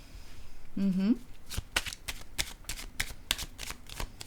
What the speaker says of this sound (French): Je vais déposer d'autres cartes, je pense.